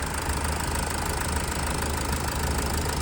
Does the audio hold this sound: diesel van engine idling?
yes